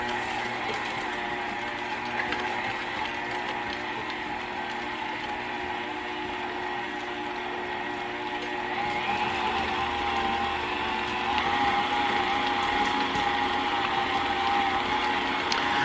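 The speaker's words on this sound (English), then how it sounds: "And so let's get started with mixing this cake." A close, steady mechanical whir comes from an electric mixer beating pound cake batter of butter and cream cheese, running continuously and getting slightly louder toward the end.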